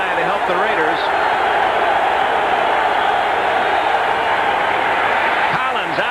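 A roaring football stadium crowd at a 1985 Raiders versus Patriots NFL game, a steady dense wash of cheering and noise heard at a distance, with a commentator talking over it.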